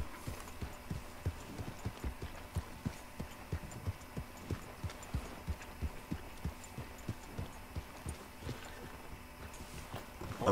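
Horse hooves clip-clop at a slow, steady riding pace in the video game Red Dead Redemption II, a regular rhythm of soft thuds over a low ambient background with no talk.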